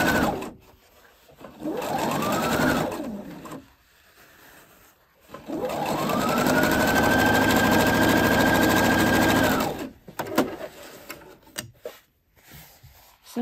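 A domestic sewing machine stitches two layers of fabric placed right sides together with a 1 cm seam allowance, running in two bursts: a short spurt, a pause, then a longer steady whir that winds up and stops.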